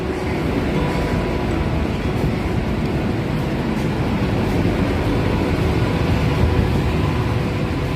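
Steady rumble of an AC local train running between Ranaghat and Sealdah, heard continuously from inside a carriage, loud and even throughout with no talk.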